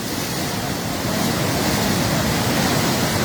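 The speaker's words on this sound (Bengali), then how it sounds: "দেখেন পানির বেগ কমছেই না" Floodwater rushes through a breached embankment of the Khowai river at Jalalabad, Habiganj, a loud, steady roar of churning water that fills the whole clip without letting up.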